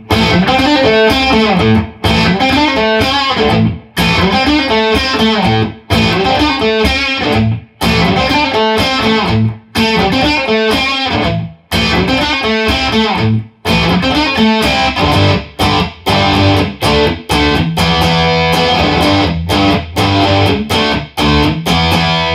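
Heavily distorted electric guitar playing a dense, sustained riff with rhythmic chord hits and brief gaps, loud and saturated throughout with no voices.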